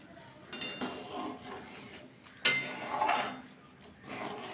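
A spoon clinks and scrapes in a pot as chicken soup thickened with cornflour is stirred, soft liquid sloshing with a few sharper metallic taps, quiet and close.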